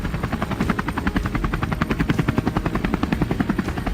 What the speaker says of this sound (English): Board the helicopter and touch down on the vast plains below.